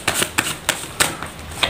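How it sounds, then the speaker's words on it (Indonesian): Tarot cards are shuffled by hand, giving a quick run of about six crisp riffling snaps at uneven intervals, close and fairly quiet, with no talking. "Langsung saja saya shuffle kartunya."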